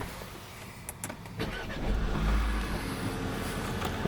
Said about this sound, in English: I'll turn the car on with push button start so you can see that